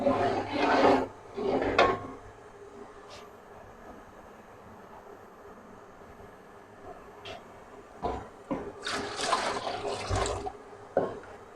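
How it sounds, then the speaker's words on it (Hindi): Chicken yakhni stock pours into a pot of pulao, with a steady low liquid rush running for several seconds between louder clatters and bursts of handling noise, close by. "आप डालेंगे इसमें वो यखनी वाला पानी।"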